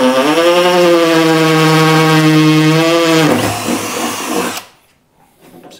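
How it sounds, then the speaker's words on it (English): A power drill runs loud and steady for about three seconds with a constant whine, then bites and rattles roughly before stopping, during work on a T-bucket hot rod roadster build in a garage shop. "Damn, is that drill bit done for?"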